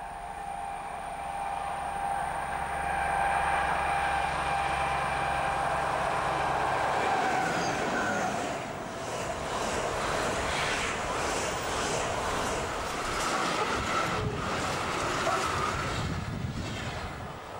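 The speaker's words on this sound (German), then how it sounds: "Bis auf 80 Stundenkilometer werden die Züge beschleunigt." Onboard ride behind a Class 218 diesel locomotive hauling a Sylt shuttle train, with a steady engine drone that gives way to loud rushing wheel and track noise as the train speeds up, carrying on without talk.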